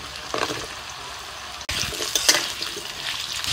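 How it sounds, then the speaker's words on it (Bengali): Potatoes fry in hot oil in a wok as a Bengali jackfruit curry is made, giving a steady hiss with a brief break near the middle and some scraping and stirring noise, and no talking. "কড়াইতে তেল দিয়েছিলাম, তেলটা গরম হয়ে গেছে। প্রথমে আলুটা ভেজে নেব।"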